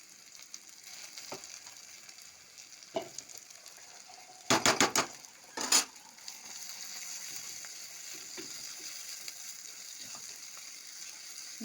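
Sliced onion and poppy seeds with slit green chillies fry in a pan, a steady soft sizzle broken midway by a few loud bursts of spoon scraping and stirring.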